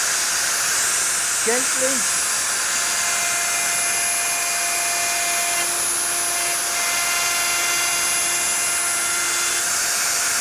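Router cutting wood while guided along a straight edge jig with a bearing across the top, a loud, steady high whine filling the whole stretch, with a brief spoken word near the start.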